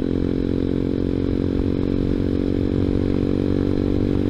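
A ZS190 Grom clone motorcycle engine runs steadily and loud close by as the rider shifts down through the gears, with a continuous rough drone and clattering mechanical texture.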